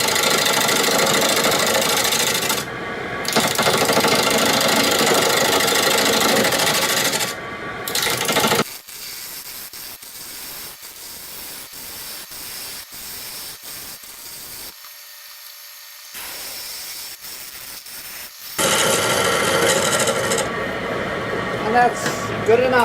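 Wood lathe spinning a slightly wobbly ficus vase blank at 800 RPM with a tool cutting the wood, a loud dense scraping roar that drops to a softer hum with quiet gaps in the middle and comes back hard at the end.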